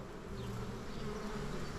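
Dense, steady buzzing of many honey bees fills the air, a close and continuous drone with no pauses.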